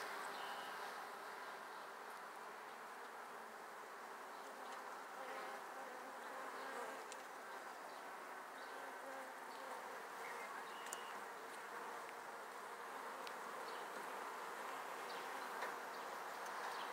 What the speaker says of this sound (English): These are the bees going to the feeder.